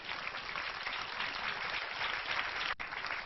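A church congregation applauds during a Spanish-language sermon, a dense, continuous wash of clapping from many hands that fills the room, with a brief dip near the end.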